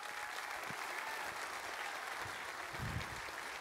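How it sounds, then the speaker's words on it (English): Church congregation applauding a woman in the service, a steady dense wash of many hands clapping that fills the whole stretch at even loudness. "I want y'all to just give this woman a hand clap right here."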